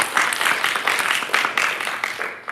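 Conference audience clapping, a dense burst of applause rising and falling in waves across the room, fairly close and loud.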